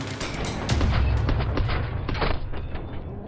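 Gunfire in the Warzone video game: a rapid burst of loud, sharp shots with booming echoes, dense for a few seconds and then trailing off.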